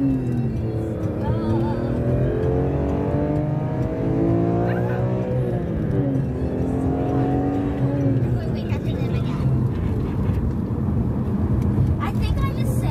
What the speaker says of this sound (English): Lower the music and you can hear your car.